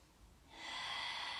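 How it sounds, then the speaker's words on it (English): A single long, breathy inhale during a yoga forward fold starts softly and swells into a steady airy rush, close and quiet, with no talking. "Taking a few breaths here."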